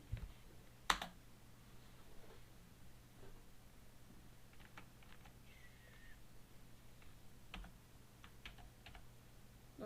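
Sparse clicks on a computer keyboard while a note is being taken, quiet and scattered over a low steady background hum, with one sharper tap near the start.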